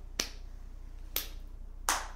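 Three sharp, separate claps or snaps in a clapping counting game, spaced about a second apart, crisp and close against a quiet room.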